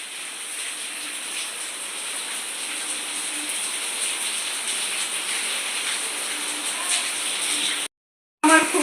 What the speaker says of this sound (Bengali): কি সুন্দর বৃষ্টি হচ্ছে আমার ভালো লাগে